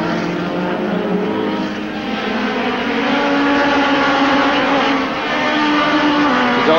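A pack of 1988 Group A touring cars, Ford Sierras and Nissan Skylines, roars off the start at the Inter TEC race, a loud continuous blend of engines rising and shifting in pitch as the field streams into the first corner.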